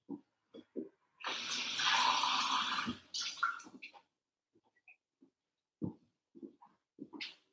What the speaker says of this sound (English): I'm just actually going to get a glass of water.